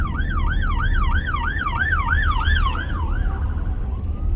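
Police car siren wailing in a fast, regular rising and falling pattern, loud and close for about three seconds before fading. A steady road and engine rumble from the vehicle being driven runs underneath.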